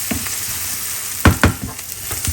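Shrimp and red amaranth fry in a pan with a steady close sizzle, broken by a couple of sharp scraping stirs partway through and softer stirring strokes afterward; nobody speaks.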